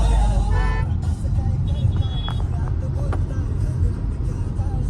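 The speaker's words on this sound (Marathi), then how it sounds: "आता या साईडला ट्रक मोठी वाहतूक जास्त आहे." Heavy traffic on a busy main road toward Shikrapur, with trucks and other large vehicles passing, heard from inside a moving car as a loud continuous low engine and road rumble, with a few brief horn toots.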